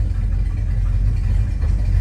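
An old V8 car engine runs steadily at idle, a continuous low rumble with no breaks, close and fairly loud throughout.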